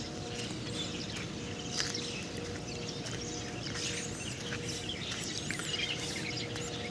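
Birds chirp in trees outdoors with scattered, faint tweets and calls over a soft, steady background hum, no voices.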